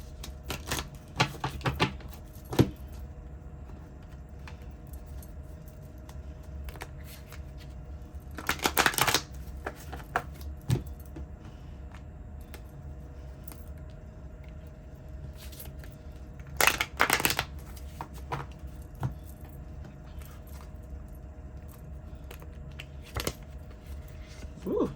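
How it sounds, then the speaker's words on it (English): A deck of cards is riffled and bridged several times, crisp fluttering bursts separated by quieter shuffling and handling, close up with no talking. "I'm just going to shuffle these properly because it is a big deck"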